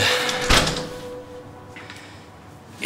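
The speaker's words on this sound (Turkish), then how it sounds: "Şu kapıyı kapayım da..." A door is shut with a single sharp thud near the start, followed by a quieter room tone and faint rustling.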